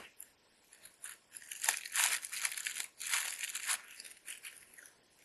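Plastic wrapping of toilet paper or tissues from a Spanish military ration pack crinkles and rustles as it is folded and handled, in several close bursts of crumpling that swell and fade.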